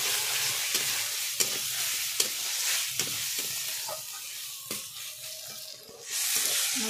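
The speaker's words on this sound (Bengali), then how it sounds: "মশলা কিছুক্ষণ কষিয়ে নিচ্ছি" Spice paste sautés in a pan with a quiet sizzle, punctuated by a series of sharp spatula scrapes and taps against the pan, ending in a louder burst of frying hiss.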